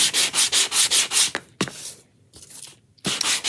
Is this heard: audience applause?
no